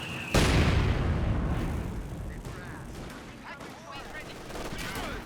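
Anti-tank guns firing on a Flak Panzer in a Company of Heroes style strategy match: one loud, close boom opens, then a long rumbling tail with scattered smaller gunfire and battle noise continuing underneath.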